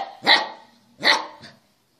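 A dog barks twice loudly and close, followed by a softer third bark.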